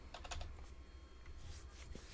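Keystrokes on a computer keyboard while building a Minecraft tech mod, a quick cluster of close taps at the start and scattered clicks after, quiet and without talk.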